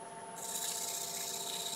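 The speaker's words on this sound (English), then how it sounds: "just doing the last little yellow scotch brite pad" A yellow Scotch-Brite pad rubs against a spinning wooden peppermill on a woodturning lathe, producing a steady, soft abrasive hiss over the lathe's constant hum, with no talking.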